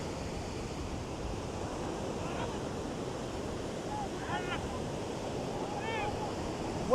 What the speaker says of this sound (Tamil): இப்போ பெரிய ஒரு அலோன் வருதுடா தம்பி